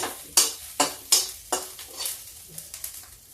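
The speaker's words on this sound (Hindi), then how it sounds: "अब हम थोड़ा सा इसी में जीरा भी डाल देते हैं।" Cumin and red chilli sizzling with cooked onions in a pan for lauki bada kadhi, with sharp sizzling bursts and spoon scrapes repeating roughly every half second, close and alone.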